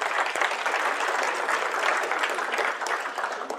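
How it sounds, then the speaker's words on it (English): A conference audience gives itself a round of applause, dense, continuous clapping heard clearly on its own with no talking. "So we can give ourselves a hand of applause before we."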